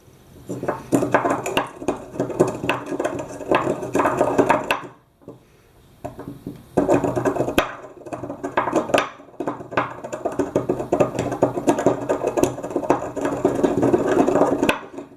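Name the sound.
grinding cinnamon by hand for incense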